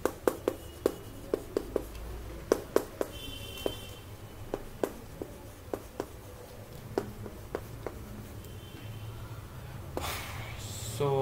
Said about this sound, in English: let's write it again